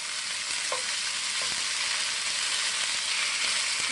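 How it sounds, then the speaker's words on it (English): Peppers fry in a hot pan with a steady, loud sizzle, while a utensil stirs through them and makes a few soft scraping knocks. No one talks. "I'm going to stir these peppers up a little bit"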